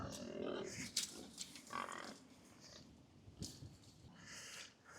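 Hungry pigs waiting by a fence near fermenting barley give a few scattered grunts and snorts, fairly close but quiet, with pauses between bursts and no speech over them.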